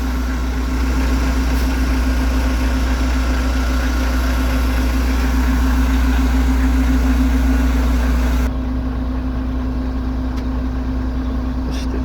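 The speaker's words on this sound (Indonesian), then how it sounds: "Ini mesinnya wis dipanasin istrine bolo, jadi tinggal gas sih." A warmed-up truck engine, the kind used for hauling 60-ton loads of limestone, idles close by with a loud, steady low rumble and hum throughout. Its tone shifts slightly near the end.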